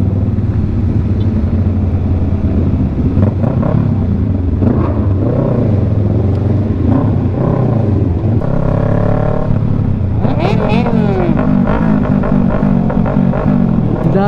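A motorcycle engine revs with a loud, throaty exhaust pipe at a large motorcycle gathering, rising and falling over steady traffic rumble, close by and continuous.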